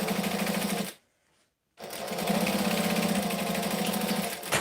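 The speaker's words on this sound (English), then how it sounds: "I'm just top stitching 1/8 of an inch from the edge of the vinyl." A sewing machine top-stitches close to the edge of vinyl, running in a steady rapid hum, pausing briefly in silence, then resuming with an even, slightly faster whir.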